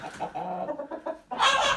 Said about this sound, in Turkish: bunlar yeni horozlarımız